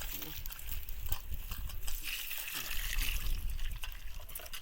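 Water splashes and trickles in uneven bursts as goat liver is rinsed by hand under running water, with scattered clatter and faint voices in the background.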